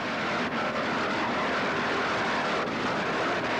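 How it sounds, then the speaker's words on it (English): A 1986 vintage offshore racing powerboat at the NPBA Gateway Regatta roars at full power near 94 mph, a loud, steady, unbroken engine scream filling the whole stretch with no pauses. "Listen to it scream out that power out of that stern of that boat"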